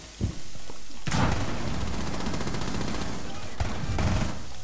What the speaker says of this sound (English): I just randomly shot.